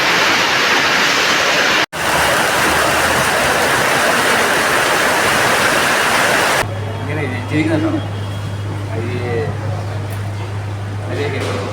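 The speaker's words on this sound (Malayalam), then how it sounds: "എന്നിട്ട് മഴ മാറിയില്ല" Heavy monsoon rain in Perumbavoor, Kerala, roars as a loud, dense wash for several seconds, then cuts away to a quieter indoor scene with a low hum and people talking.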